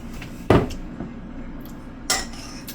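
Utensils clatter against a pan while demi-glaze honey garlic chicken is mixed, two sharp metallic knocks, the second later and slightly softer, over a low kitchen background.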